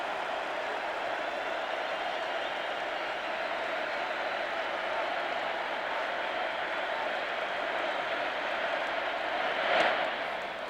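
Sustained applause and cheering from a large baseball crowd at a 1991 World Series game for Kirby Puckett, a steady dense roar with a brief swell near the end.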